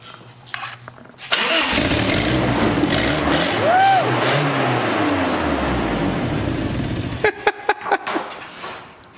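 The engine of a 1998 Toyota Tacoma cranks and catches, then runs and revs loudly for several seconds before settling. The run ends in a few sharp clicks or pops, and a voice is faintly heard.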